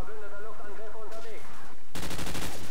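Rapid bursts of automatic gunfire in Call of Duty 4 multiplayer, a few clipped volleys followed by a sharp dense barrage, loud and close.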